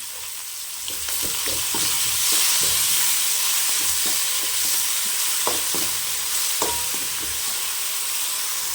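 Crushed small shallots sauté in a pan for a mutton chukka, giving a continuous sizzle. Repeated scraping stir strokes and clinks of a spoon against the pan sound close by throughout.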